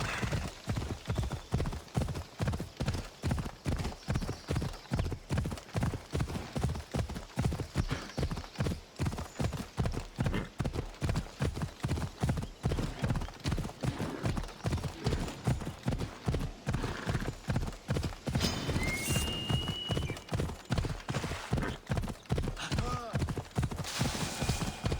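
A horse gallops at a steady, rapid pace in Assassin's Creed Odyssey. The hoofbeats thud evenly and close, run unbroken for the whole stretch, and a brief voice cuts in near the end.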